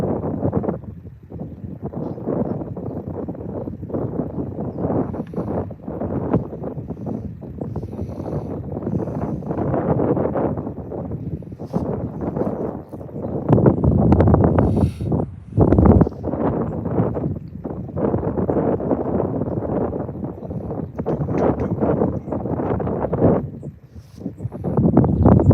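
Steady wind buffets the microphone beside a reservoir while someone fishes for crappie, bass and trout, a constant low rumble with gusting surges and no speech.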